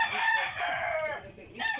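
Chickens on a farm, with a rooster crowing loudly and close alongside clucking fowl in one short burst.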